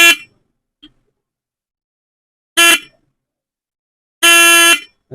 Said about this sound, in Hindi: इसी तरह से दोस्तों आप भी अपने हॉर्न की आवाज़ को बढ़ा सकते हैं।